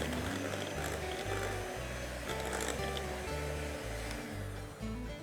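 An electric mixer whirs steadily through cake batter, a loud continuous motor drone with a slight wobble, running without pause throughout.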